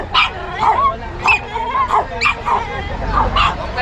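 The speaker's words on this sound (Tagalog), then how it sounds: "May mga aso." Several dogs bark and yip close by in short bursts, with whimpering between them and faint chatter in the background, at a dog breeders' market gathering in Bocaue.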